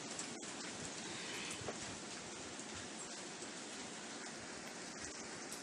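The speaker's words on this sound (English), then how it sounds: "There's nothing like grilling on a porch in the rain." Steady rain falls on and around a porch, making a dense, even hiss of drops with no pauses, heard at moderate distance and without any voices throughout.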